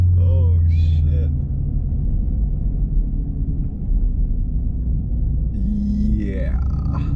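A 500-whp sixth-generation Camaro SS launches on Mickey Thompson drag radials with wheel spin, a loud, steady low engine roar and rumble throughout, with brief high squealing tire chirps at the start and near the end.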